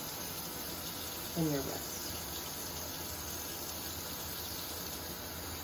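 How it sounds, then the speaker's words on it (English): A tap runs steadily as hands are rinsed, a constant moderate hiss of flowing water throughout, with a brief spoken phrase near the start. "So now we're just going to rinse off our hands."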